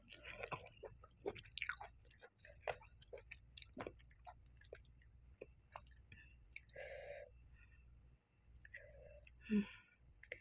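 Popping puffball mushrooms (hed phao) in a bamboo shoot curry being chewed close up: crisp, wet crunching and squishy bites in an uneven rhythm, with soft clicks and a few smacking sounds, all quiet and intimate.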